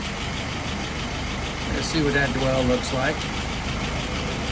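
A warmed-up engine idles at about 680 rpm, its low, steady rumble filling the background while someone talks over it.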